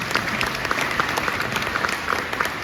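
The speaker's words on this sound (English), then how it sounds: "Yeah, you can applaud." Audience members applaud at an outdoor big band tribute concert at an arts center, a close, steady patter of many hands clapping at even loudness for the whole stretch.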